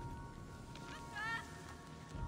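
A bird call from the Immortals Fenyx Rising video game: a short honking, goose-like cry around the middle of the clip, fairly faint over steady game ambience.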